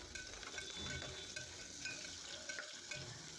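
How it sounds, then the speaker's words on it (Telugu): Onions frying in oil in a pan for a capsicum curry, giving a steady, close crackling sizzle with light stirring throughout, no talk over it. "ముందుగా ఆయిల్ వేసి అందులో ఆనియన్స్ వేసి లైట్గా బ్రౌన్ కలర్ అయ్యాక"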